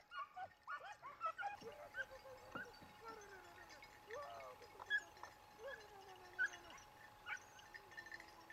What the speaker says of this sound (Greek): Φώναξε, φώναξε τα σκυλιά!